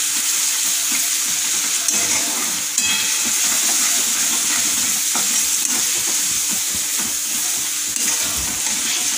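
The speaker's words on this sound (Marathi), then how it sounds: "आता आपण मस्त तळून घेऊ।" Onions with garlic and ginger paste fry in a pan, a loud, steady close-up sizzle with occasional stirring scrapes and no voices.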